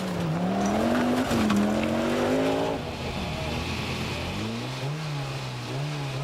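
A Group N Audi rally car driven hard on a British Rally Championship stage, its engine revving loud and close, climbing through gears, then easing off before pulling strongly again, with no talk.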